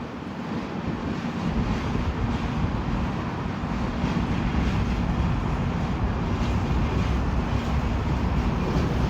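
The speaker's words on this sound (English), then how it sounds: "You probably heard that flat wheel go by." A steady, loud rumble of a passing BNSF grain freight train with a flat wheel, a continuous low roar and rushing noise throughout, no distinct rhythmic thumps standing out.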